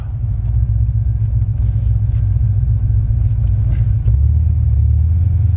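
A car coasts down after a drag run at Toronto Motorsports Park, its engine a steady low rumble that stays close and loud throughout, with a slight shift in tone near the end as it slows under braking.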